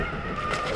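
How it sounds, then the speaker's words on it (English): A brief scraping skid of a Stark Varg EX electric dirt bike's locked-up tires over dirt under a steady motor drone, close and fairly loud. "locking them brakes up"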